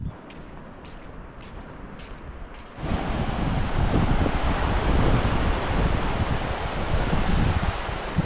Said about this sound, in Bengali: এটাই ভোরের সমুদ্রের পাড়।